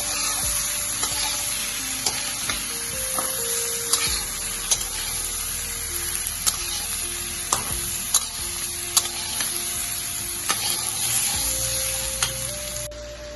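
Turmeric and salt stirred through hot oil in a frying pan, a steady close sizzle broken by repeated sharp scrapes and taps of a spoon against the pan, with no talking.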